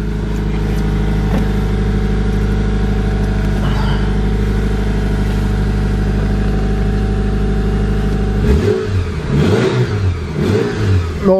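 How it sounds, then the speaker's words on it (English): A Hyundai Santa Fe AWD with a 2.4 engine idles steadily just after a cold start, then near the end is revved in several quick rising and falling bursts, loud and close, with no talking. "Normally I shouldn't rev it when it's cold"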